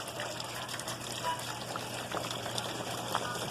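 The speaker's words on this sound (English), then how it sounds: "Draining right out into the driveway there." Rainwater overflowing a house gutter and draining onto a driveway, a steady trickling, splashing wash of water heard from close by at moderate level.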